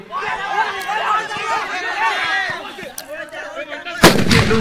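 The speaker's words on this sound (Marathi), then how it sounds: "फटाक्यांची आतिषबाजी आताच चालू झाली आहे" Firecrackers burst at a night cricket match in Konkan, a sharp loud crack near the end after scattered pops, heard under a busy crowd and overlapping excited voices of spectators.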